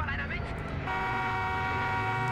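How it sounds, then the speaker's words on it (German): A car horn honks in the multiplayer shooter Battlefield Hardline, a sustained blare that starts about a second in and holds steady over busy in-game engine and background noise. "Ich würde gern hupen."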